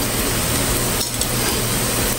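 Food frying in hot oil for a simple merienda, a loud continuous sizzle with a short dip and a light clink partway through.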